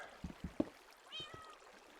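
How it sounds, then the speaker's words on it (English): A cat meowing in modded Minecraft, a short, faint drawn-out mew following a few soft clicks and taps, quiet and close with no talk over it. "There's a cat here, apparently."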